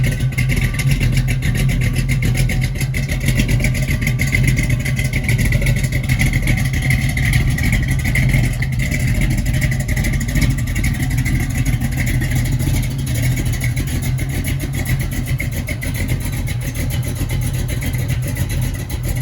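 A 1968 Ford Mustang Coupe V8 running loud and close, exhaust burbling and revving with a rough, throaty rumble that holds steady throughout.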